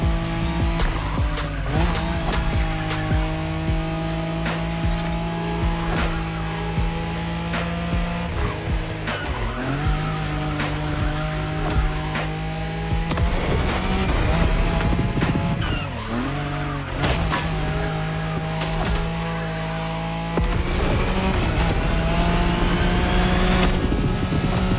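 A Nissan Skyline races along the Tokyo Bayshore route in The Crew Motorfest, its engine droning loud and steady with tire squeals and skids breaking through as it corners.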